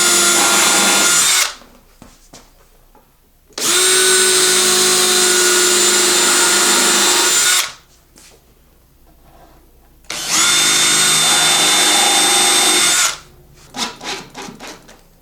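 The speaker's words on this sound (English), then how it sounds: "So I'm pre-drilling everything." A power drill pre-drills wood for a ramp kit in three long, loud whirring bursts separated by quiet pauses, ending with a few short clattering knocks.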